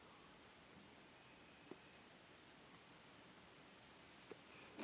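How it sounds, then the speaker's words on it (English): Autumn crickets chirp in a steady, pulsing high trill that fills the background, faint and continuous, with no voices and only a couple of tiny clicks nearby. "Fall bugs."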